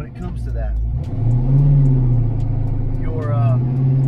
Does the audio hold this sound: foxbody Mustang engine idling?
yes